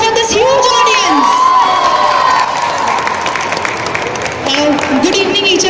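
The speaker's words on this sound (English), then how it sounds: "I want my team to give a round of applause for this huge audience." A large crowd at a mall event cheers, whoops and shouts with applause underneath, many children's voices prominent, loud and close throughout, with a brief dip midway before the cheering swells again.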